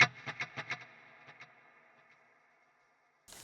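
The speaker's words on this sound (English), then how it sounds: "But I like the sound of the dual delay." Electric guitar through a Fractal AM4 dual delay effect: a chord stab followed by rhythmic repeating echoes that fade away over a few seconds, then a brief noise at the end.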